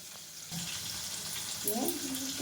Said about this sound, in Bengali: আর এই যে এখানে দেখো, হ্যাঁ এগুলো ভাজা হয়ে গেছে